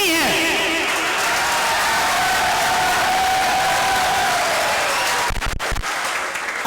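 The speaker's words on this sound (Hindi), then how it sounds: "आपकी तालियां उस लेवल की नहीं है।" Audience applause and some cheering at an oath-taking ceremony for a traders' association in Punjab, a loud continuous wash of clapping from a large crowd with a speaker's voice faintly underneath.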